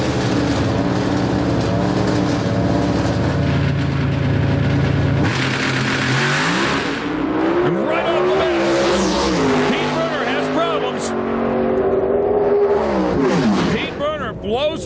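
A Pro Stock drag racing car launches at the 2005 IHRA Rocky Mountain Nationals with loud engine revving. The roar sweeps through rising and falling pitch as the car runs, with a race commentator talking throughout.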